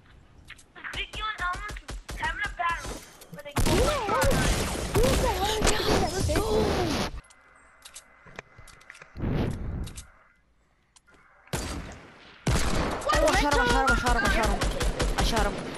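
Fortnite Battle Royale gunfire crackles in sharp rapid bursts between pauses, loud and close, mixed with in-game clatter and players talking excitedly over the shots.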